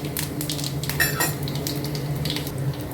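Onions sizzle in hot sesame oil with fennel and fenugreek seeds as a tempering for tamarind kuzhambu, a steady close crackle with light utensil clinks and stirring over the hiss.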